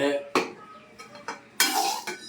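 A spoon stirs fried egg with pepper powder in a pan, giving a few separate scraping, clinking strokes spread across a short stretch, close and fairly loud.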